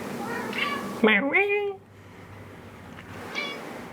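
A cat meows several times in a home, a loud drawn-out mew in the middle with softer mews before and after, up close amid room noise.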